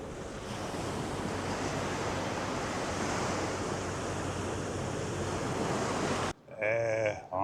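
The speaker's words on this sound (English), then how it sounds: "We'll pull to the side so you can listen to the waves." Ocean surf rolls in steadily, a broad continuous wash of breaking waves heard close by, with wind buffeting the microphone; the roar cuts off abruptly near the end, leaving brief rumble and noise.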